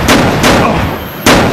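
Three loud close gunshots from a video game, sharp bursts with short gaps.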